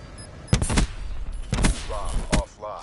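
Bursts of automatic gunfire in the video game Black Ops 3, two or three sharp volleys close up, with faint voice fragments in between.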